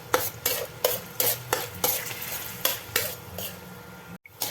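Garlic fries in a pan for beef pachum, a continuous sizzle broken by regular stirring scrapes of a utensil against the pan, about ten strokes in quick rhythm, close and fairly quiet.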